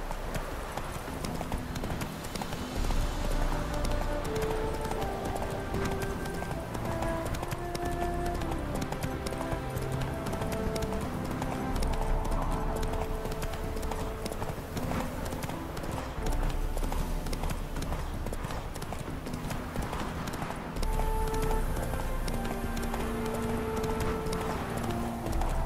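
Horse hooves galloping in the video game Witcher 3: rapid, continuous clip-clop footfalls at a steady rhythm throughout, loud and close, over a layered game soundscape with music-like tones.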